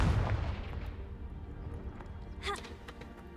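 A Confringo blasting spell in the Hogwarts Legacy video game, cast in a cave, bursts with a heavy boom at the start that rumbles and fades, followed by a fainter crackle midway.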